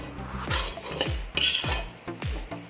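A spoon scrapes and clanks against a pan in a quick, uneven rhythm while a coconut and sesame laddu mixture is stirred, with no voices.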